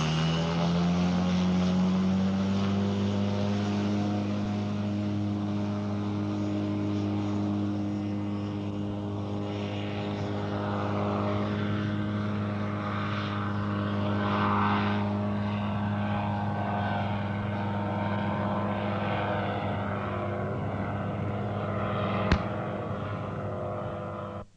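A microlight aircraft takes off in a 15-knot crosswind with full flap, its propeller engine droning loud and steady with a strong tonal hum that rises in pitch at the start and holds through the short run and climb.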